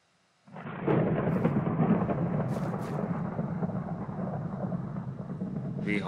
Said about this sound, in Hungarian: Vihar.